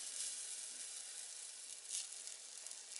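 Gentle continuous sizzle of gluten-free, yeast-free bread batter spread in the bottom of a hot stovetop pan, a close, soft hiss with small crackling swells and no voices.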